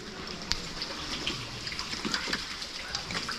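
Warm water from a hot spring near Baguio pours and gushes steadily, a close continuous splashing wash with a faint voice in the background.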